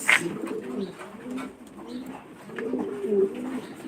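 Maltese pigeons cooing at a pigeon farm in Noakhali, Senbag, Bangladesh, soft repeated throaty coos in a steady rhythm, fairly close and moderately quiet, with a brief sharp chirp at the start.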